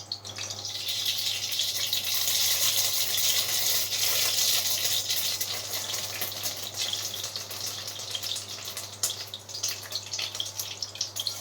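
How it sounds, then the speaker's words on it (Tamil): Mustard seeds spluttering in hot oil for mango rice, a steady close hiss with fine crackling pops that swells and then eases slightly, with no talk. "எண்ணெய் நல்லா காஞ்சிச்சுங்க, கடுகு சேர்த்துக்கலாம்."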